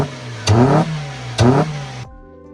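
A Toyota Starlet's 4E-FE engine, fitted with a 7A-FE throttle body, runs loud and close and is blipped twice in quick, sharp revs. Each rev falls back to a steady idle before the engine cuts off.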